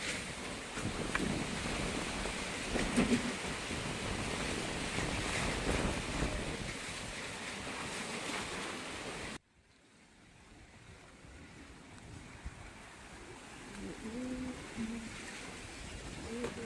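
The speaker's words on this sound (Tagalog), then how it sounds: "Sobrang lakas ng hangin guys." Strong wind buffets the microphone in a loud, steady roar, then cuts out abruptly and returns as a softer rushing gust.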